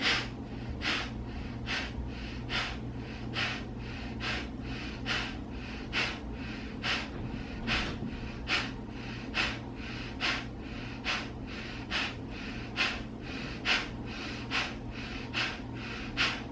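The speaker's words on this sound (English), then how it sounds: "Take a nice inhale and begin." Deep, slow breaths during a breathing exercise, a close, quiet series of regular inhales and exhales repeating roughly every second or so over a faint steady hum.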